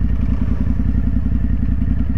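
Idling vehicle engine with a rapid, even thudding pulse and rattly exhaust, loud and close on a quiet Warsaw street, steady for the whole short stretch.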